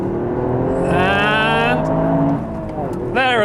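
A Toyota GR Yaris accelerates hard in first gear on a national-limit road, its engine note climbing steadily in pitch from inside the car, then dropping briefly at a shift before rising again, with a person talking over it.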